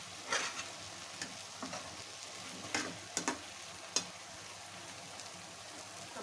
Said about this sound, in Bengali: আবার একটু হালকা করে নেড়ে নেব, একদম আলতোভাবে